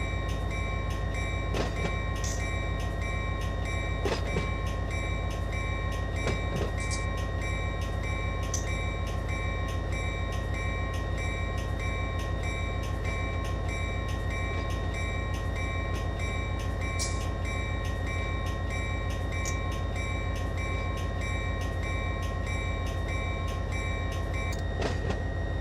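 A long, heavy cut of freight cars rolls through a CSX rail yard in the Run8 train simulator, a steady loud rumble with a constant mechanical drone and occasional faint clanks and squeals over it.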